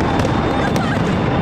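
New Year's Eve fireworks over the Arc de Triomphe in Paris, heard from a nearby hotel room as a dense, continuous wash of crackling bursts and rumble, with voices mixed into the din.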